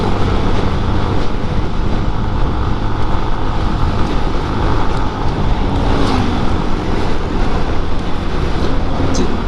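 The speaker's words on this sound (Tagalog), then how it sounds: "Lakas ang hangin." Strong wind roars steadily over a moving motorcycle on a ride toward an underpass, a dense, loud, unbroken rush with no talk.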